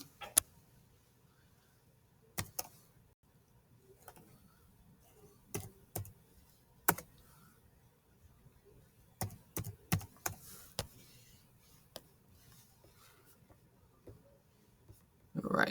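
Sparse bursts of keystrokes on a computer keyboard, short clusters of crisp clicks separated by pauses, quiet and close in an otherwise hushed room.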